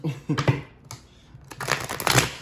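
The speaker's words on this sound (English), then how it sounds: "I'm going to get these cards shuffled for you" Tarot cards being shuffled by hand, a few quick riffling bursts and soft slaps, close and fairly quiet.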